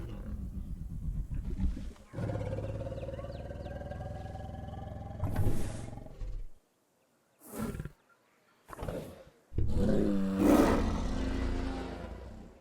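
A Carcharodontosaurus in Jurassic World Evolution 2 lets out a long, deep roar like a foghorn, followed after a silent gap by several shorter roaring bursts and a final sustained bellow, loud and close.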